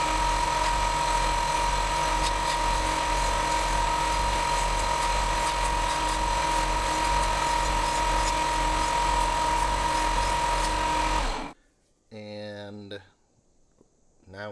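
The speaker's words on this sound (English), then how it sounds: "I'm going to clean up all these curves on the end of the belt sander" A belt sander whirs loudly and steadily for several seconds smoothing curves on a wooden charcuterie board, then cuts off, followed by a person talking.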